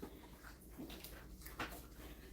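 Puppies around six to seven weeks old whimper and yip faintly in a pen over a steady, noisy background, with brief soft cries rising and falling.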